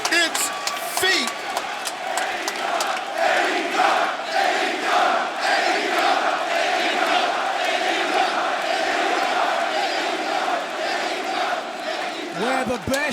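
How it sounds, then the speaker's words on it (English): Wrestling arena crowd in Newark, New Jersey roaring and cheering on its feet, a dense sustained wall of voices and yells lasting throughout, loud and continuous with scattered shouts rising above it. "And listen to this crowd. Newark, New Jersey is on its feet."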